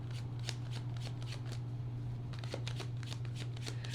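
Tarot cards riffled and shuffled in repeated bursts, close and steady over a low constant hum.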